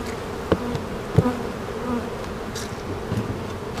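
Honeybees buzz around an open beehive during a hive inspection, a steady close insect drone with a few sharp clicks and knocks from handling the hive, no talk.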